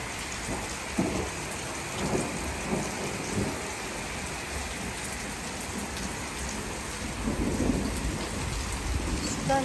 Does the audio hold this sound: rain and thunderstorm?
yes